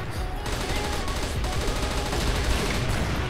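Rapid gunfire from the online shooter game CrossFire West during Halloween-themed play with a Kriss weapon, dense bursts of automatic shots crackling continuously at close range, with faint voices underneath.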